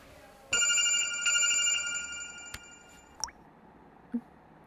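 A mobile phone rings with a bright electronic tone for about two seconds, clear and near, followed by a few faint taps and blips in an otherwise quiet room.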